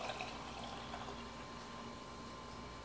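Water being poured from a cup into the reservoir of a Famiworths single-serve coffee maker, a steady, continuous trickle and splash at close range with no talking.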